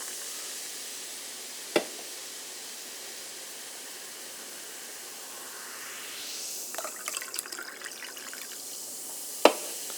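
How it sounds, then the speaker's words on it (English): A sharp click as a can of Coca-Cola Spiced opens, then quiet fizzing soda pouring into a glass with rising bubbly crackle, ending in another sharp knock. "you open up this can of Coca Cola Spiced, and then you pour it into this glass"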